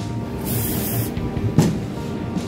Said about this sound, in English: A bit of spray lube.